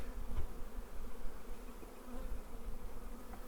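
Honey bees buzz steadily around an open hive nucleus, a dense, close, continuous hum with no talking.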